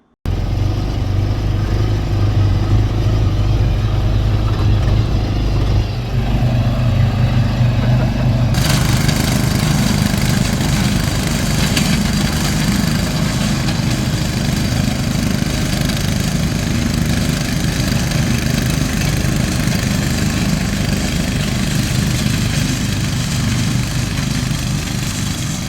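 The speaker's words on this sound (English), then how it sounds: "him using the Prowler 650H1 that was in the last video series that he bought off me, mowing his 6 acres of land in Maine" A Polaris Prowler 650 H1 UTV engine runs steadily while mowing six acres of land in Maine, a loud continuous mid-pitched drone that stays close for the whole stretch and grows denser partway through.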